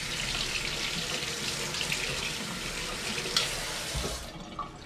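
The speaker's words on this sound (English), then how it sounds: "we're gonna run it under some cold water to stop the cooking so it doesn't cook the tomato" Cold tap water runs steadily into a kitchen sink over a tomato to halt its cooking, a continuous close hiss and splash that ends with a brief clunk and a softer trickle.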